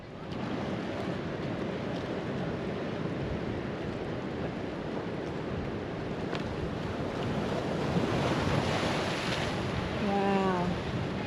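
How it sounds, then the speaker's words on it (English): Sea surf surging near high tide on the Ningaloo Reef coast at Coral Bay, a steady, loud wash of breaking waves with wind buffeting the microphone throughout, building slightly toward the end. "The sea is surging."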